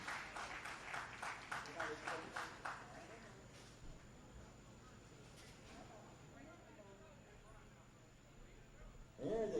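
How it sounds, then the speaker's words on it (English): Crowd applause for youth girls' bowlers starting double elimination match play at a bowling centre, a short burst of rhythmic clapping early on that fades into a noisy hall, faint and distant. "let's give these bowlers a huge round of applause as they begin their double elimination match play"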